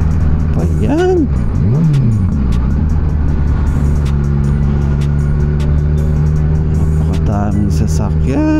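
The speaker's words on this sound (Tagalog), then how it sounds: "Napakadaming sasakyan." Heavy road traffic with many cars passing during a test ride, a steady engine hum and rumble with rising and falling motor tones close by, continuous for the whole stretch, with people talking over it.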